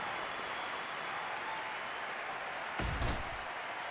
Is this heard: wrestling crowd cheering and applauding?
yes